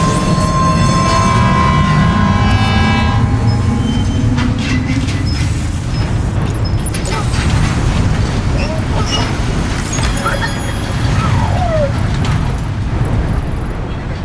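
A monorail ride in the video game Death Stranding 2, with a loud, continuous rolling rumble of the train carriage. Tones rise and fade over the top, and a voice talks briefly near the start.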